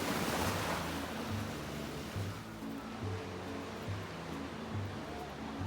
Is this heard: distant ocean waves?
yes